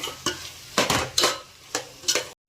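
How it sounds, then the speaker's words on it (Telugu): Soaked dried peas and soy chunks fry in a pan for a vegetable biryani, with a spoon scraping and stirring in several short, bright strokes and a light sizzle between them, close and alone before a sudden cut. "నెక్స్ట్ మీల్ మేకర్ కూడా యాడ్ చేసి ఫ్రై చేసుకోవాలి."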